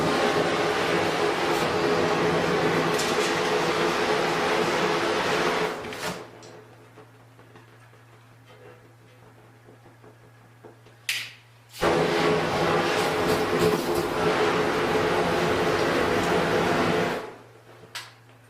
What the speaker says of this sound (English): Let's see if I can weld these two pieces.